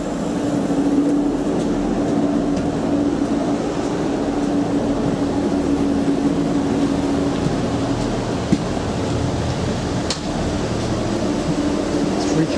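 Steady interior rumble of a three-carriage Class 144 diesel train at Skipton station, a constant engine drone with a faint hum running through it and the occasional clunk, continuing evenly for over twelve seconds.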